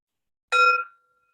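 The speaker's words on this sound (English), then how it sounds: "Ringing a little bell to get us started." A small bell is struck once, a bright clear ding whose pure ringing tone fades over about half a second in an otherwise silent room.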